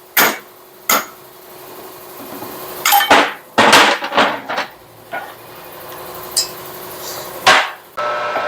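An old pin is used as a drift to hammer a bushing out of a Kodiak front axle during a king pin kit replacement. Sharp metallic hammer blows land irregularly, singly and in quick clusters, with no talk.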